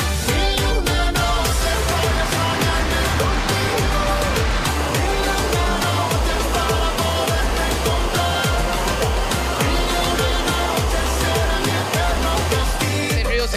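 The Damitas river, a natural, clean stream, flows in a loud, continuous rushing wash of water that stays steady throughout, with dense pulsing texture that may include music over it.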